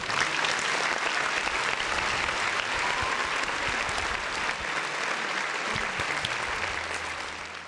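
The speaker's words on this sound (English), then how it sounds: "Another round of applause for the folks in the chat." Steady, full-bodied applause from a large crowd, many claps merging into a constant roar that holds level and fades slightly at the end, heard alone without talking.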